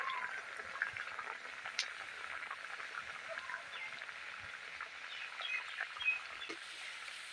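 Pea-filled patties fry in mustard oil in a wok on a stove, giving a soft, fairly quiet, steady bubbling sizzle with scattered small pops and crackles, heard alone.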